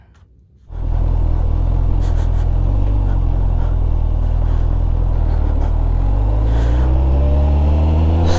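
A motorbike engine starts and revs for a ride toward Kazan after a night at a campsite, a loud close rumble that climbs steadily in pitch as it accelerates.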